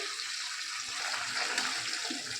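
Salt water being poured over sliced plantain-style bananas for chips, a brief steady splashing trickle of liquid close by with no talk.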